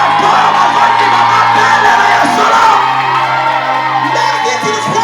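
A church congregation shouts and cheers loudly during a fervent worship service. The dense, sustained roar of many voices whooping and yelling fills the space at full volume from start to finish.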